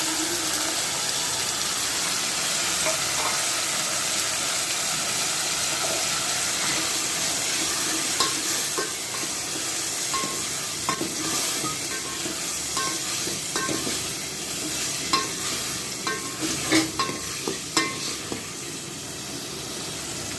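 Chopped tomatoes hit a pan of hot tempering for Rayalaseema vaadappa with Bombay chutney, giving a continuous close sizzle, with stirring scrapes and clinks growing more frequent toward the end, with no voices.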